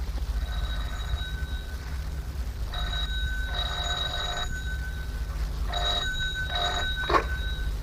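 An old-style telephone bell rings in repeated bursts with pauses between them, loud and close over a low steady rumble, with no talk.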